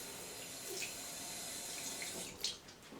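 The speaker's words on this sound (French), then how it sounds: "Bon, après, on va rincer le savon." Tap water runs steadily into a sink to rinse off soap during a morning and evening skincare routine, a close, even hiss with a few small splashes near the end; no voice.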